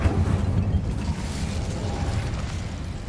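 Incendio fire spell cast in Hogwarts Legacy, a loud low whooshing burst of flame that roars up at once and then rumbles steadily for a few seconds, with no talking over it.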